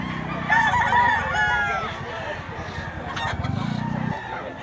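A gamecock crows loudly at a rooster market, a long strained call close by, with more crowing and clucking from other birds and voices talking in the background.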